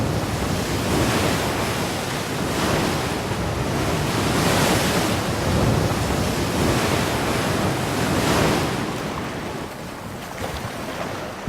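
Heavy ocean surf rolls in the Drake Passage between Cape Horn and Antarctica, a loud continuous wash of breaking waves swelling and easing in slow surges, with gusting wind buffeting the microphone.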